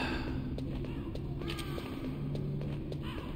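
Crows caw intermittently in the Metal Gear Solid video game, rough calls mixed with light thumping steps over a continuous humming game ambience.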